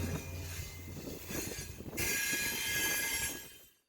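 A train rolls close by with rumbling wheels and a bright metallic squeal that swells midway, then cuts off abruptly, loud and alone.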